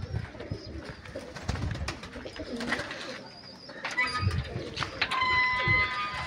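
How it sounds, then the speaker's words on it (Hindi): Pigeons kept in pairs in a rooftop loft coo softly in low, rolling murmurs, with a few brighter chirps and light rustling close by, all fairly quiet. "इस तरफ भी जोड़ वाले कबूतर हैं।"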